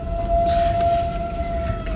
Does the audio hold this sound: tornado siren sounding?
yes